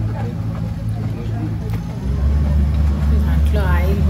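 An oil-fuelled tourist boat on Fateh Sagar Lake in Udaipur, its engine droning low and steady and growing louder partway through, with people talking over it.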